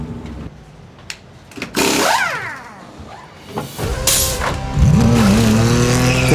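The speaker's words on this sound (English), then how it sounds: "As in comes the leading pair of cars" GT race cars peeling into the Monza pit lane during a GT World Challenge race, engines snarling and downshifting in loud sweeping passes, with tyre squeal and sharp mechanical bursts close by.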